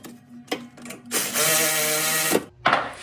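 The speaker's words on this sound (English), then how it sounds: "to be a time saver, we have our electric ratchet" Electric ratchet spinning brake caliper bolts with a 13 mm socket on a 2015 Ford Escape, heard as short whirring bursts followed by a longer steady buzzing run that cuts off, then a brief final burst.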